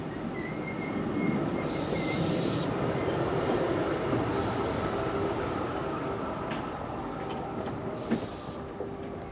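RER commuter train at the Saint-Rémy-lès-Chevreuse terminus, a steady rumbling rail drone with faint tonal hums, brief bursts of hiss and a squeal, heard close and fairly loud throughout, without speech.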